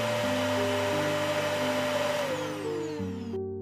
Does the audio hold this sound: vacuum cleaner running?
yes